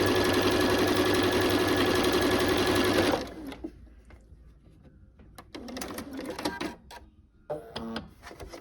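A sewing machine runs steadily and loudly while stitching red and white quilt pieces together, then stops abruptly; afterward only scattered handling clicks and short rustles of fabric follow in a quiet room.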